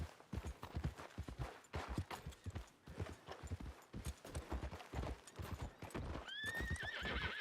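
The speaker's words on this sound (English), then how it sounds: "Get a hold of that horse, will you?" In Red Dead Redemption 2, horse hooves clip-clop at a steady trot, close and rhythmic, ending with a high, shaky neigh over the footfalls.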